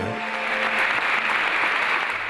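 Warm applause from a church congregation greeting the bishop-elect of Zamora, a dense, steady wash of many hands clapping that holds evenly throughout without any voices on top.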